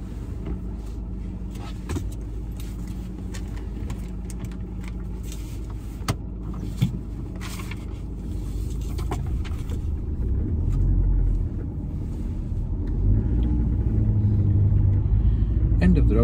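A car pulls away on a mock driving test. A steady, close engine rumble builds gradually, with cabin sounds and an instructor talking over it.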